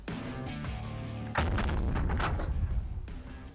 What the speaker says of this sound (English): it does look like it's pretty soft shooting for a 50